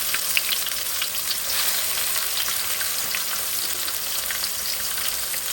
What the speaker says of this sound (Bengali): পেঁয়াজ আর রসুন বাটাটা এখন ভালো মতো কষাবো।